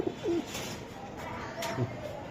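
A racing pigeon coos close by, a couple of low soft throaty coos over a quiet room hum.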